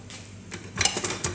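Dishes clatter in a kitchen sink, quiet rustling at first and then a cluster of sharp, close metallic and ceramic clinks near the end, with no talk.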